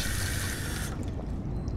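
Steady water running and splashing, like water poured or drunk in a video game, continuous and close for nearly two seconds, then thinning toward the end.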